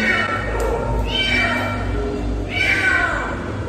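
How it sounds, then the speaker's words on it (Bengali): A cat meows indoors, two drawn-out cries about a second and a half apart, clear and fairly close over a low background hum. "কি ম্যাও ম্যাও করছে এরকম? খেলা করছে মনে হয়।"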